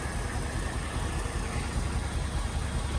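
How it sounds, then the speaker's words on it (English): An antique Ford Bronco with a 302 engine, newly started after years unused, idles steadily in a rough, even rumble, heard alone at moderate volume. "Seems like it's idling pretty good."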